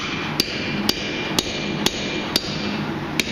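Six sharp, evenly spaced hammer taps ring out on a steel chisel stuck in a Viking axe being forged, each strike crisp and close over a steady background hum.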